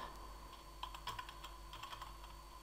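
A password is tapped out on a computer keyboard in a quick, uneven run of soft key clicks, close but quiet, over a faint background hum with no speech.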